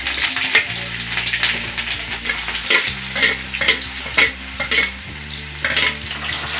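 Garlic and chili sizzle in hot oil for a dal tempering, giving a constant frying hiss broken by repeated scraping stirs of a spoon in the pan, close up and with no voices.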